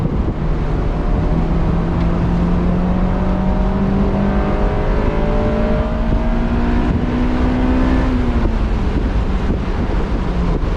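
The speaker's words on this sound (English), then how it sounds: "Such a wonderful engine too. It's revvy," A 2007 Honda S2000 sports car engine drones steadily at close range while driving, its pitch climbing gradually as the revs rise, with wind buffeting the microphone throughout and no talking.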